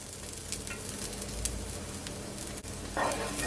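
Garlic and ginger hit a hot pan for a beef and onion stir fry, giving a steady close sizzle that swells brighter near the end, with faint stirring scrapes and no talking.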